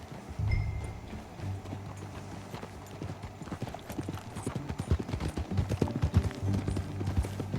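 Rapid clip-clop of horse hooves at a steady gallop in the video game Red Dead Redemption 2, fairly close and growing louder, with a low droning tone and occasional faint talk underneath.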